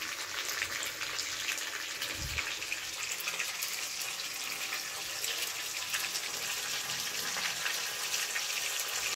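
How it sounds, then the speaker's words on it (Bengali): A continuous loud sizzle of capsicum and onion frying in hot oil in a wok, steady throughout with a brief low thump early on. "এবার আমি ক্যাপসিকাম আর পেঁয়াজটা ভাজতে দিয়ে দিয়েছি কড়াইতে"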